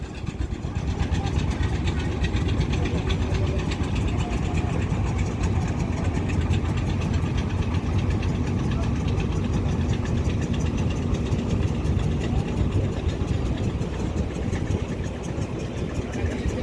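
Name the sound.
engines of ships, cargo boats and trawlers on Mongla river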